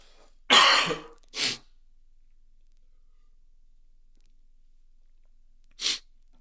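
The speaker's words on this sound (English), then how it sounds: "Pause for another cough and a drink of my water real quickly." Three sharp bursts, one long and forceful, a shorter one just after, then a lone brief one several seconds later, with silence between.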